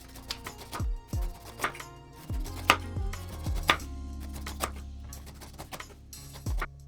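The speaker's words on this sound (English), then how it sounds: "Cut thin slices to avoid waste." A knife slicing thin pieces from a peeled pineapple on a cutting board, a series of crisp close taps and chops in an irregular rhythm, clear and without talk.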